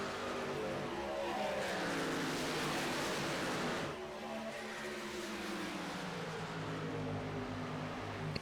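Race trucks roar around the Atlanta oval, a pack of engines droning loudly with pitch sweeping as they pass, one truck dropping away halfway through while the field keeps howling.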